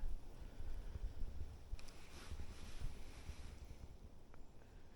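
Gusty wind rumbling against the microphone outdoors while fishing, a low, uneven roar that swells and eases, with faint water in the background.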